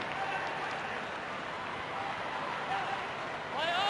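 A steady, roaring crowd fills the stadium at a 2009 AFL match between Essendon and St Kilda at an Essendon home game, with a commentator talking over the noise.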